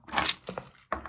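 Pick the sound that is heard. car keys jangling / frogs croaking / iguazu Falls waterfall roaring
car keys jangling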